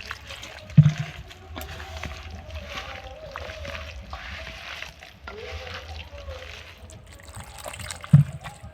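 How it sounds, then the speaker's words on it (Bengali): Water is added to homemade wheat flour and worked into a batter, giving a steady soft trickle and slosh of mixing close by, with two brief knocks and a low background hum. "এবারে এটাকে আমি জল দিয়ে ব্যাটার তৈরি করব।"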